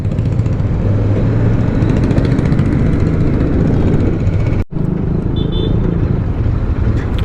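A BS6 Royal Enfield Interceptor 650 motorcycle rides through city traffic, its engine a steady, loud drone with road and wind noise throughout and a brief cut near the end.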